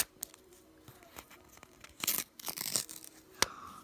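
Rustling and crinkling of a yellow paper surprise packet being torn open, with a few sharp rips and crackles, close and fairly quiet.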